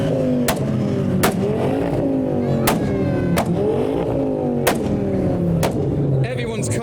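Ford Focus ST engine revving hard at a rev battle, loud sustained roar with repeated sharp pops and bangs, crowd noise underneath.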